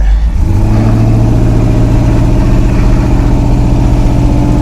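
A new Toyota engine revs hard under load, running rough, a loud steady droning roar with strong low rumble holding throughout after a brief rise at the start.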